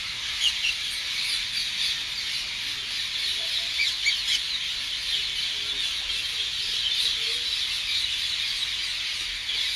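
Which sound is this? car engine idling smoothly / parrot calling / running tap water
parrot calling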